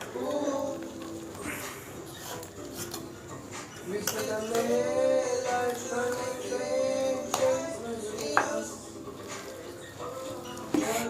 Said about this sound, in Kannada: ಸೊ ಮ್ಯಾಶರ್ ತೊಗೊಂಡು ಮಾಡ್ತಾಯಿದ್ದೀನಿ.